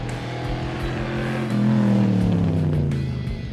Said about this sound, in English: few cars can compete with the exhaust note of a +8 in full flight